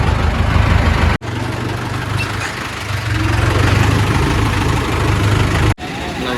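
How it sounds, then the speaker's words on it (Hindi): A tractor engine runs steadily at close range near a brick kiln, a continuous heavy low rumble broken by two brief dropouts, with no talk over it. "कई ट्रैक्टर है, ये तो चल पड़ा"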